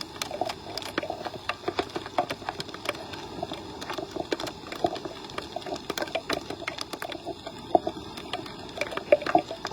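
Steady patter of rain on a beach in North Naples, Florida, with scattered sharper drips and taps, moderately close, continuous throughout with no voices.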